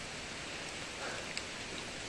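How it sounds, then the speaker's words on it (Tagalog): Steady, soft hiss of rain falling, fairly quiet and even throughout, with a faint patter of drops and no voices. "Tuwing umuulan, at tuwing napunta ako rito, lagi na ulan."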